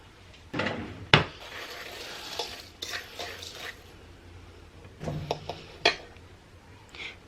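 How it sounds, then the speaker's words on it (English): Crunchy pretzels tumbling out into a bowl in a few short rattling bursts, with clattering pieces and small knocks spread over several seconds, no talking. "we're going to empty our pretzels out into a bowl"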